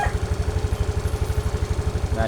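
A motorcycle engine idles steadily up close, its low, even exhaust pulses thumping in a regular rhythm throughout, with no other sounds.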